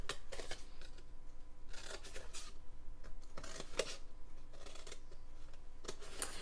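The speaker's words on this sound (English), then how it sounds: "now go in and cut all these score lines like this" Scissors snip score lines into paper for a handmade candy box, a string of short crisp cuts repeating every second or so, close and fairly quiet with no voice.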